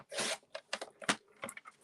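A paper trimmer with a freshly changed blade slicing a 5.5 by 8.5 sheet of cardstock for a vellum card, heard as a few quick, close scraping and tearing swipes in short bursts.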